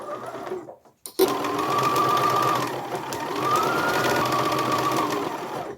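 After a short pause, a sewing machine runs slowly and steadily through the bulky fabric of a Christmas stocking, close and loud.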